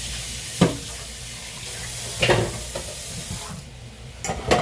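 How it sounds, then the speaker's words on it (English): Running water splashes in a kitchen sink as dishes are rinsed, a steady close wash broken by several brief louder gushes and clatters. "I'm going to go ahead and rinse off the dishes here. Put them into the water to be washed."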